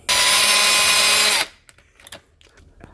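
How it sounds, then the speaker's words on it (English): A power drill drives a screw into wood plugged with a golf tee in a stripped screw hole, a loud steady whir for about a second and a half, then a few faint clicks and handling noises. "Now we got a nice solid piece of wood to screw the new screw into."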